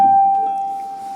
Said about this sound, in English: So G5 on a piano sounds like this.